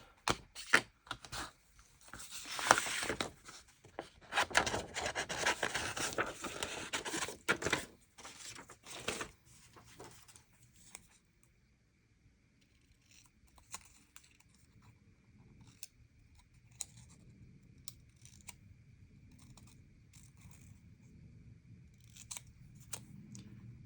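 Scissors snip through a small paper label in quick, close, crisp cuts, then slow to sparse, quieter snips and faint rustling, with no talking.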